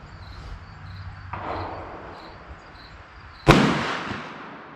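A .410 Remington slug fires from a New England Firearms SB1 full-choke shotgun outdoors: one sharp, loud report with a short echoing decay, preceded by a softer thump and faint insect chirping in the background.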